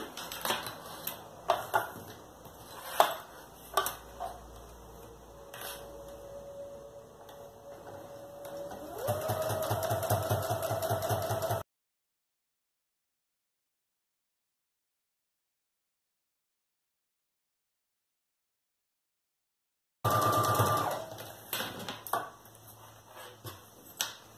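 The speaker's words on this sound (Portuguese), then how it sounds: "Agora eu vou passar uma costura reta aqui." A sewing machine runs a straight seam through a child's backpack, its motor whirring in a steady burst after some scattered handling clicks and taps, then cutting out and starting again.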